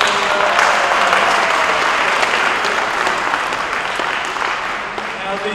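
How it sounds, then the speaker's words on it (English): A STEM conference audience breaks into loud, sustained applause, many hands clapping together in a dense, even wash that stays strong throughout and eases a little near the end. "Okay, big hand applause then"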